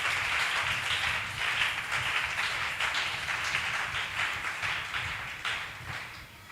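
Church congregation clapping together in a sustained, fairly loud round of rhythmic applause that tapers slightly toward the end.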